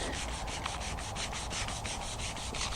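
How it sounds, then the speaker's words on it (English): A car bumper edge is sanded by hand with steady, continuous rasping strokes, close and even throughout. "sand right on that edge there"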